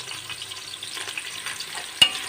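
Onions fry in a pan for a pulao, a soft steady sizzle with light stirring scrapes and one sharp clink near the end, no voices.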